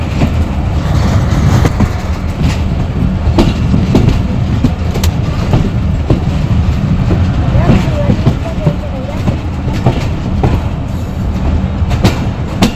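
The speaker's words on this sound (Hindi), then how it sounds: "हमारी गाड़ी पतौकी स्टेशन अप्रोच कर रही है और 2 मिनट अर्ली चल रही है" An express passenger train approaching Pattoki railway station in Pakistan rumbles steadily, with loud continuous rolling and clattering wheels heard from inside the carriage.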